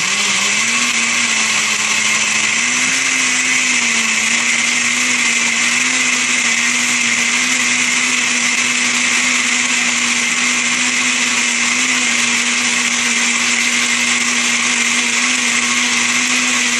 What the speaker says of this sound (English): Plug in your blender, put the lid on, and mix your ingredients together.